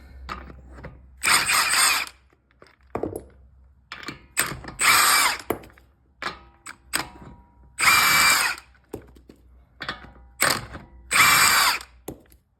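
Milwaukee M18 cordless impact tool with a high-output battery zipping lug nuts off the front wheel of a 2016 Toyota Sienna Limited minivan, several loud bursts of whirring and ratcheting hammering separated by short pauses, close by.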